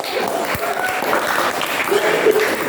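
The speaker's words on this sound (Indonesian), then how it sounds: "Kasih tepuk tangan dulu loh." Applause from a small group at a Catholic student fellowship gathering, brief clapping with a few voices calling out over it.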